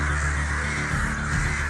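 A city flock of rooks fills the air with a dense, continuous chorus of overlapping caws, loud and close, with no talk over it.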